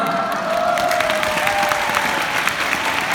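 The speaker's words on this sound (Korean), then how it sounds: "예의상 박수를 쳐주시는 거죠" An audience at a Nu Skin event claps politely in steady, dense applause that holds evenly throughout, with a faint tone running beneath the hand claps.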